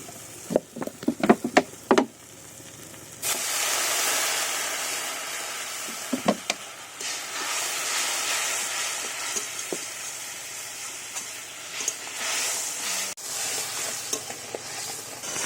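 Water poured into sizzling crab masala in a pan: a few knocks and clatters, then a sudden loud hissing surge that settles into a steady bubbling sizzle, with scattered stirring sounds.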